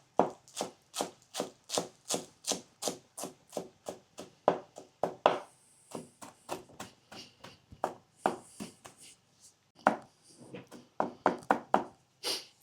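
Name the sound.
chopping fresh coriander and dill finely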